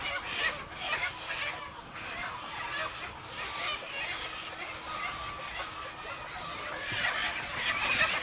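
A crowd of chickens clucks and chatters continuously at moderate distance, a busy flock murmuring without pause.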